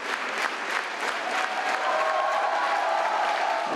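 Opera premiere audience in frontline Severodonetsk breaks into sustained, dense applause, a steady wash of clapping from a full hall that holds loud throughout.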